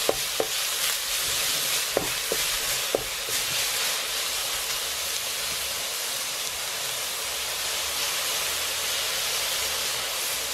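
Minced pork for Thai pad krapow sizzles steadily in a hot pan while a utensil stirs it, a continuous frying hiss with a few clacks early on, close and moderately loud, no talking.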